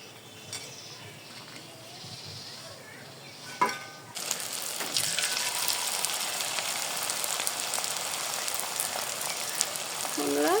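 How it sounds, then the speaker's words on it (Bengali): Potato sticks frying in hot oil, a steady hiss and crackle that swells loudly halfway through as more sticks go in, continuing to the end with a few clinks. "সবগুলো পটেটো স্টিক এভাবে ভেজে নিব"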